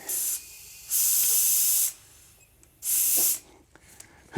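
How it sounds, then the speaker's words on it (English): Short bursts of hissing air inflate an adventure motorcycle tire to seat it on the bead, three separate blasts with quiet gaps between, close and fairly soft. "I'm gonna fill this up and you'll hear it pop onto the bead"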